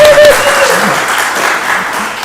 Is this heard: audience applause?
yes